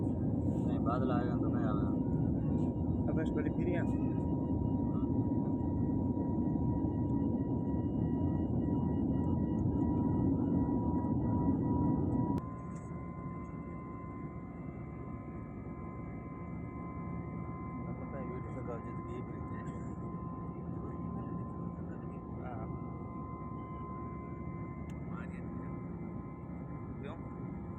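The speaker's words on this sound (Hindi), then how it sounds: "ये फ़्लाइट अपने पूर्ण रूप से उड़ान भर चुकी है।" Airliner cabin noise in steady flight, a loud continuous engine roar and rumble that drops to a quieter hum partway through, with people talking over it.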